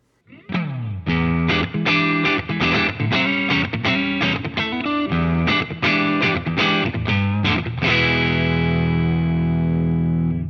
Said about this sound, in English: So the Placator Clean amp block, which is the Friedman's B100 clean channel, sounds like this.